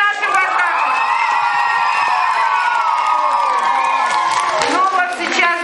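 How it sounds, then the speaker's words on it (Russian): Children at a counselors' concert at Orbita summer camp cheer and shout together in a loud, sustained roar, with whoops rising near the end. "Итак, еще раз аплодисменты."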